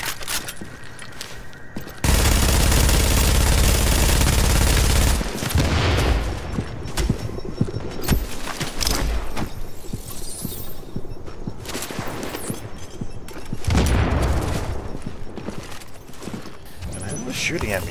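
Video-game gunfire and explosions, with a loud sustained blast burst early on, then dense rapid shots and impacts crackling on and off throughout, with another heavy surge near the end, and someone talking over the action.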